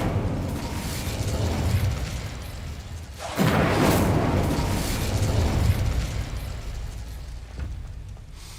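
An Incendio fire spell from Hogwarts Legacy is cast in a burst of rushing, roaring flame that swells suddenly and then trails off into a sustained fiery whoosh over rumbling background noise.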